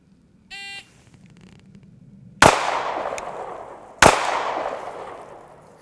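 A short electronic shot-timer buzzer sounds at a live-fire range, followed after a pause by two sharp, loud shots from a 9mm pocket pistol, spaced about a second and a half apart.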